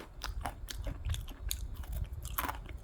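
Someone chews a crunchy barbecue-flavored snack right at the mic, with rapid crisp bites and crunches repeating in an irregular rhythm, no talking.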